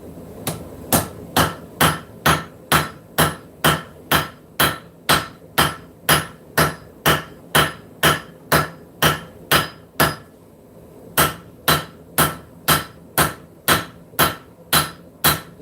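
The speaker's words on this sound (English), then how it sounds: "Gonna switch hammers. Go with the Fire Creek Forge hammer." A Fire Creek Forge hammer strikes hot steel while forging a knife in a steady, ringing rhythm, about two blows a second, loud and close, with one short pause before the blows resume.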